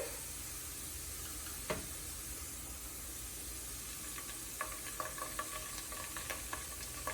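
Ginger-garlic paste frying among lightly browned onions for a spinach chicken dish, heard as a faint, steady hiss with one sharp clink early and a run of light scraping stirs toward the end.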